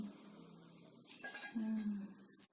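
Quiet metallic clinks and a brief ringing scrape as heavy metal dishes from a boxed set knock together close by.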